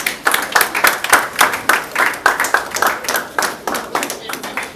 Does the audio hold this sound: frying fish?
no